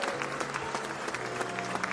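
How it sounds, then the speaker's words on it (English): A circus audience bursts into sustained applause and cheering for a flying elephant act, dense steady clapping with crowd noise throughout at moderate loudness. "The audience leapt to their feet, cheering wildly."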